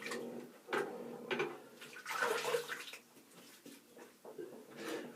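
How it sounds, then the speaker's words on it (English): Water splashes and trickles close by as a face is rinsed after a shave with a Merkur 34c HD razor, coming in several irregular bursts at low volume with no talking. "I'll just rinse my face"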